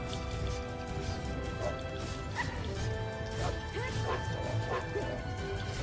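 Dog-like barks and yips from sandwolves in the video game Drakengard 3, several short bursts over a steady bed of game music and combat clatter, moderately loud.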